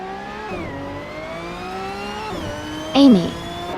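Race car engine of a 1990 Mercedes 190E Evo 2 in a racing video game, a steady high drone that climbs in pitch through the gears with short dips at each shift, then a brief louder burst near the end.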